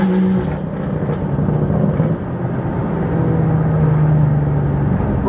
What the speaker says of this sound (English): Here, we'll do a first gear pull then.